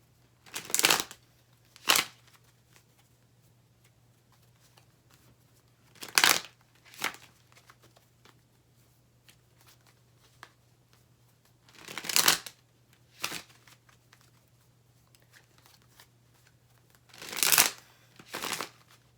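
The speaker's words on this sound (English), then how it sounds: "But let's pull some cards." Tarot cards are shuffled in four separate bouts, each a brief crisp riffle or flurry of card slaps, close by over a faint steady hum, with quiet gaps between.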